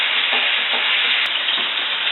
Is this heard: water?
yes